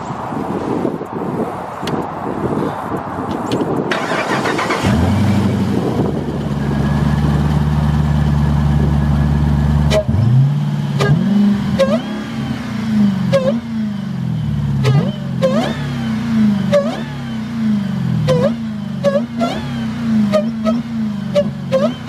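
A Jeep Trackhawk fitted with a B Woody cold air intake idles loudly, then revs repeatedly in sharp rising bursts that fall back between blips, with a supercharger-style whine riding over the deep engine note close by.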